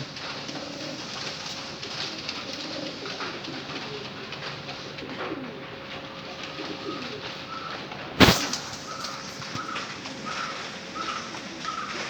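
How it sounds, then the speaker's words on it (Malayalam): Soft, continuous cooing from a flock of imported pigeons amid steady background noise, with a brief sharp knock or clatter partway through. "ഒരുപാട് പ്രാവുകളുണ്ട്."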